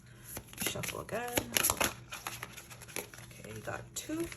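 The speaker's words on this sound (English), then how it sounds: "Shuffle again." Tarot cards are shuffled by hand in soft, quick riffling bursts, close and fairly quiet, with a voice speaking intermittently around them.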